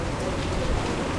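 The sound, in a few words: heavy rain in Nallamala forest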